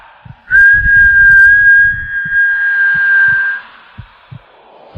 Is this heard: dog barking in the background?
no